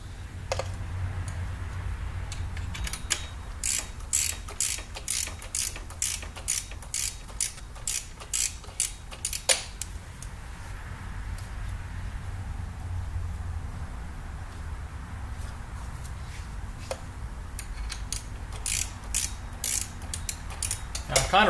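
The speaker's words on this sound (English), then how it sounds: "Did I get that wrench out already?" A ratchet wrench works on a 2000 Subaru Outback engine under repair, giving bursts of rapid clicking separated by quieter pauses, close and crisp.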